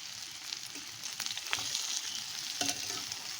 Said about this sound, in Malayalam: എണ്ണ ചൂടായതിനു ശേഷം നമ്മുടെ റെഡിയാക്കി വെച്ചിരിക്കുന്ന പനീർ ഇടുക.